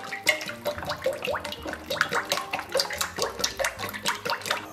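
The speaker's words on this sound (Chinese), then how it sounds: "咱们给锅里边稍微来点油" Oil poured into a wok for braising pig trotters, a close, liquid splashing and sizzling stream with busy crackling bursts throughout, no talk.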